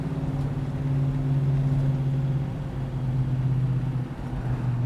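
1968 Dodge Charger with a 440 big block V8 launching, a deep steady engine drone from inside the car that holds loud and rumbling, easing slightly near the end.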